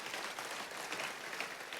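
Audience applause in a church service, a dense patter of many hands clapping at moderate distance that stays fairly even from start to finish, without speech on top.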